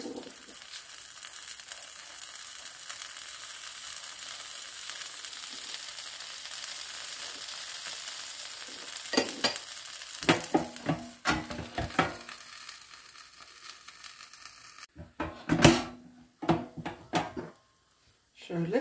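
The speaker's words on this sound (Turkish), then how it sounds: "Şimdi bu tarafını tekrar yağ döküyorum." Gözleme with spinach and cheese fries in oil in a pan, giving a steady, soft, hissing sizzle. Later come louder clinks and scraping handling sounds, then a short quiet pause.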